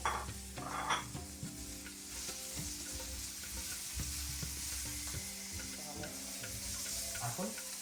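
Cauliflower pieces are stirred and fried in oil in a pan, with a continuous near sizzle and repeated spatula scrapes and clinks against the pan.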